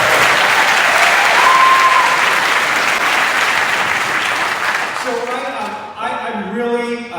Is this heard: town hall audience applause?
yes